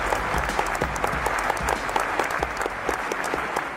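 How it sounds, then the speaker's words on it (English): Dense, sustained applause from a conference audience greeting a keynote speaker, a steady wash of many hands clapping at even volume throughout. "So warm round of applause for Mr."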